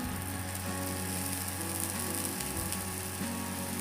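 Oil drizzled onto a cucumber thalipeeth cooking on a griddle, giving a soft continuous sizzle and crackle over a low steady hum, fairly quiet and without speech.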